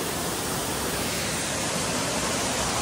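A waterfall pours into a pool-like basin, a steady, dense, loud roar of falling water that stays unbroken throughout, with no voices.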